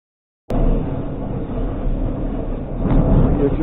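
Ride aboard an N57 Tygrys passenger train, model 2006, where a steady rumbling hum of the moving carriage starts abruptly and continues evenly, loud and close, with no voices.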